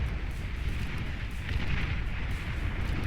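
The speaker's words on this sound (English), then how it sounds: "And now the big explosions of the vanguards will actually finish off this army" Destroyed units blowing up in the real-time strategy game Beyond All Reason, including big Vanguard explosions: a continuous roaring, rumbling blast wash with no clear gaps, fairly muted and without voices.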